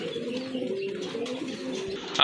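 A pair of red Sirazi pigeons coo with a steady low warble, fairly close and continuous, over faint background noise.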